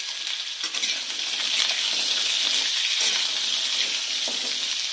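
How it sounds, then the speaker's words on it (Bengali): Papaya pieces fry in hot oil for a vegetarian papaya dish, giving a steady, bright crackling sizzle throughout with a few louder surges of spitting, close by and with no voices. "এবার পেঁপেটা আমি ভালো করে একটু ভেজে নেবো তেলের মধ্যে।"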